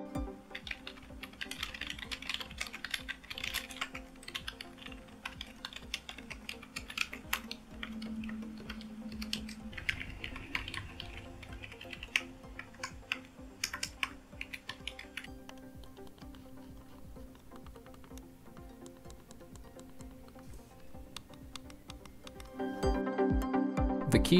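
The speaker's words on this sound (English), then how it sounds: "Now let's check out how this keyboard and mouse sounds while in use." Steady typing on a Trust ODY wireless keyboard with stiff, heavy keys, a dense run of close, quiet plastic key clicks with no talking.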